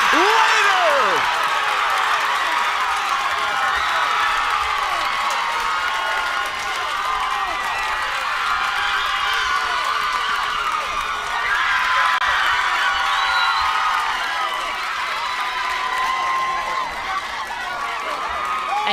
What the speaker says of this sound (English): Everybody is on their feet cheering for Kimora Harris, the leading hitter of this tournament so far